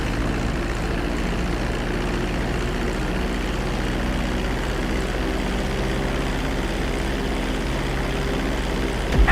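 A fixed-wing airplane comes in to land on a runway in GTA V, its engine and propeller giving a loud, steady droning hum that holds unbroken throughout.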